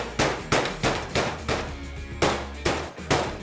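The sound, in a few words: hammer pounding food on a cutting board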